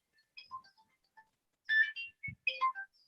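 A phone ringtone sounds from an incoming call: a short electronic melody of bright, separate notes, played in two brief phrases against near silence.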